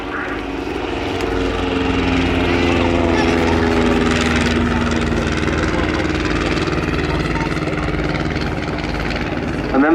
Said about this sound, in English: Here they come in front of us, starting off with the 2 SE-5As, then the Avro 504K and the BE-2C from the Bremont Great War Display Team.